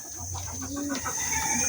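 A chicken clucks close by in short, rapid bursts over steady background hiss.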